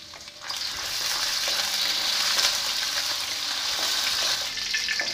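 Onion tipped into a pan of frying garlic, a sudden swell into a loud, steady hiss that stays dense and close, with faint stirring scrapes underneath.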